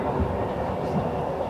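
Train ride through Switzerland, heard from inside the carriage: a steady low rumble and rattle of the moving train, fairly quiet and continuous, with no one speaking.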